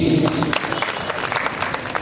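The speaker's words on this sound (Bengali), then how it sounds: "আমরা একটু হাততালি দেই" Audience applause at a Bengali literary felicitation ceremony honouring engineers, a dense steady patter of many hands clapping continuously throughout, fairly loud and close, with no pauses.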